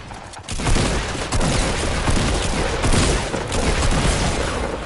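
Rockets and gunfire in the battle game Fortnite: a dense, loud barrage of explosions and rapid shots, sustained and close, with booming impacts throughout.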